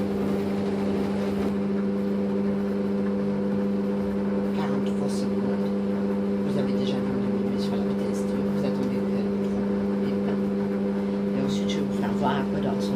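A Fagor connected food processor kneads magic dough at speed 3, its motor giving off a steady, loud hum with tonal harmonics and a faint churning texture. The sound holds constant throughout with no pauses.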